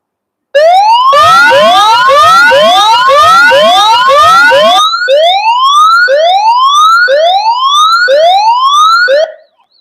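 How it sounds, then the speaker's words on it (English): A two-way radio's SOS alarm siren sounds very loud and close, a rapid rising wail that repeats quickly before slowing into longer sweeps, continuous and without talk until it cuts off. "Long press this button, the SOS alarm, it will be on. Please be prepared for that because it will be very loud voice."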